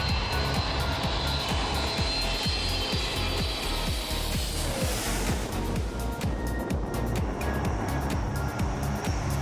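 An airplane on a low landing approach over Phuket Airport gives a loud, continuous roar that swells slightly around the middle and holds steady to the end, with no voices.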